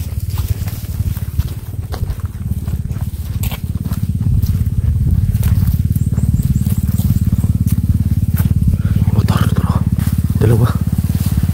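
A motorcycle engine drones steadily and close on a mountain trail, a low pulsing hum running through the whole stretch while people talk over it.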